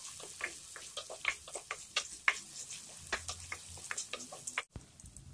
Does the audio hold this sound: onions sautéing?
yes